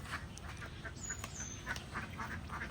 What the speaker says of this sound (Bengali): হাঁসগুলো ছেড়ে দিয়েছে।